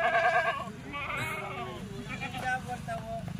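Kathiawadi sheep bleat close by in a livestock yard, with a few quavering calls rising over a busy background of people talking.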